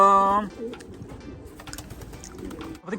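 Racing pigeons coo softly after landing at the end of a 640 km race, with low burbling calls sounding close by under casual conversation, which opens with a brief tonal beep.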